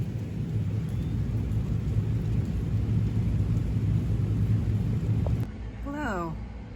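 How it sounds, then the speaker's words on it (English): Steady rain pours outside with a low thunder rumble beneath, loud and continuous for about five seconds before cutting off abruptly, followed by a brief voice. "now it's raining out, so we will finish this tomorrow"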